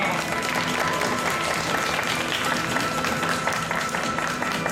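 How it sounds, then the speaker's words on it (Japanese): Dense, continuous applause from a large crowd at an outdoor shopping-street water-sprinkling event in Sendai, steady and loud throughout with no pauses. "拍手じゃ"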